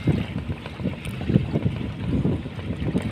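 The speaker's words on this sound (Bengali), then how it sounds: "ট্রলার, ওটা মাছ ধরার জন্য" A fishing trawler passes on the Buriganga river in Dhaka under cloudy skies and light drizzle, its low engine chugging in a steady pulsing rumble with a faint wash of wind and water over it.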